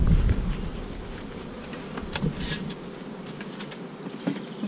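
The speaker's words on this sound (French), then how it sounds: "l'essaim artificiel que je vais transvaser dans cette ruche" Bees of an artificial swarm buzz steadily while being shifted into a hive, a dense close insect hum with a few brief louder passes and light tapping, no voices.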